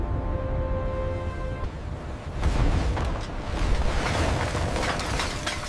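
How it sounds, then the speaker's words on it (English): Heavy ocean waves slamming into Antarctic sea ice around a ship, a continuous deep roaring rumble with loud booming surges that swell and break, close and powerful, with no voices. "When waves hit the ice, the explosion is deafening."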